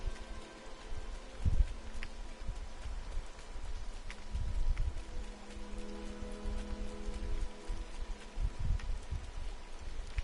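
Rain falling: a soft, steady patter of drops hitting a surface across the whole stretch, faint and diffuse, with a few louder low thumps along the way and no speech.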